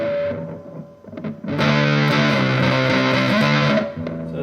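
An electric guitar plays a short riff through a RAT distortion clone pedal switched to germanium diodes, a fuzzy, saturated distortion with thick, slightly rounded chords, loud and close.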